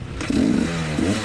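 A motorcycle engine at a round of a racing event stalls, with a short loud rough putter that cuts out abruptly, close up and with no talk.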